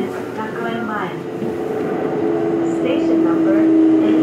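A Kintetsu 1220 series express train runs from Kintetsu Nara toward Osaka Namba, heard from inside the car. A steady rumble carries a rising motor whine that slowly grows louder, with a voice briefly audible at the start.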